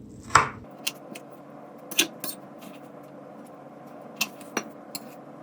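A knife chopping food on a cutting board while preparing a cow liver dish, a handful of sharp, separate knocks spaced unevenly in a quiet kitchen.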